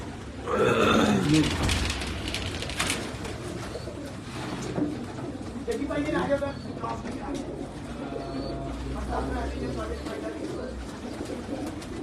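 Kamangar pigeons cooing on a Karachi rooftop, soft repeated coos at close range mixed with a voice talking over them.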